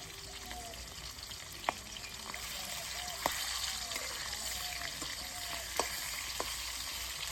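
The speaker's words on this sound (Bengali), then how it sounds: "তসলার মাছ ভাজা আওয়াজ হচ্ছে" Boal fish frying in hot oil in a pan, a steady close sizzle and crackle with a few sharp spatter pops standing out, no talking.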